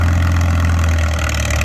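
An antique tractor engine idles at a plow day, a steady low throb holding constant and fairly loud with no voices over it.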